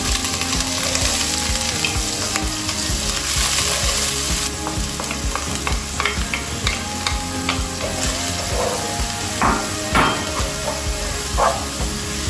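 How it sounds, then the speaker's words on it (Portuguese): Chopped onion poured into hot olive oil in a pan, a loud steady sizzle and frying crackle with occasional stirring scrapes and clinks, close and continuous, no talking. "Agora eu vou despejar a cebola."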